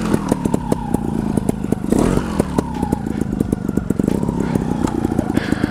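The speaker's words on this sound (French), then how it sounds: "je vais lever la roue avant pour monter la première palette" A trial motorcycle idles and revs in first gear as its front wheel lifts to climb a wooden pallet, the engine putting out a steady low rumble, with clattering knocks and a brief rev midway.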